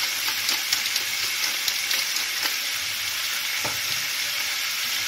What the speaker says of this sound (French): Et on va faire revenir notre viande. On va bien la faire colorer.